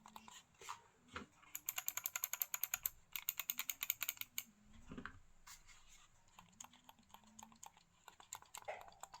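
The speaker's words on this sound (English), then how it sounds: "Now let's hear the clicking noise." Keys clicking on a Perixx PERIDUO 613B wireless compact chiclet keyboard, quiet close-up taps in quick typing bursts separated by brief pauses, with no speech.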